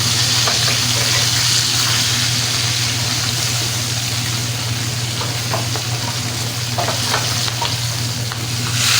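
Seasoned fish fries in hot oil for a Egyptian-style crispy fried fish dish. It gives a continuous, close, loud sizzling crackle with occasional stirring and spattering, without talk.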